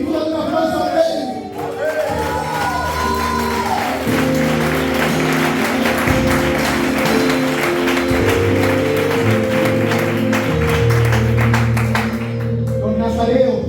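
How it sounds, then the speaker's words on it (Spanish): Church congregation applauding during a Spanish-language sermon, sustained crowd clapping mixed with voices and organ or keyboard tones, continuing steadily throughout. "Dale un aplauso a Él."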